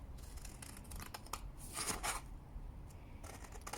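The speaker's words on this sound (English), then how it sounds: "And then what you can do is cut your shape out." Scissors snipping through paper to cut out a square shape, a run of crisp, close cuts and rustles with a fuller burst near the middle, heard alone.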